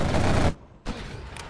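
Gatling tank firing in C&C Generals Zero Hour, a dense loud burst of rapid gunfire that cuts out briefly, then resumes with a rattling spin and continuing shots.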